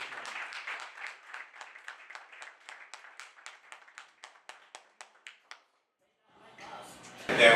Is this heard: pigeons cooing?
no